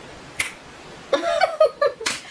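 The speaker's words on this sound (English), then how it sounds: "I wish I could just snap my fingers and have this hair done" Fingers snap sharply, crisp isolated cracks with one near the start and another near the end, and a voice talks briefly in between.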